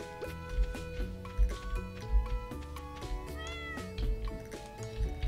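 A cat in the Stardew Valley farming game meows several times over steady tonal background music, each call short and fairly quiet.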